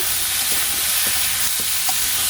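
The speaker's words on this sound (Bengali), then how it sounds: "সবজিগুলো কষিয়ে আমি এখানে যদি টমেটো দিয়ে দিছি" Vegetables and tomato sautéing in a pan give a steady, fairly loud sizzle, with a few soft utensil taps every half second or so.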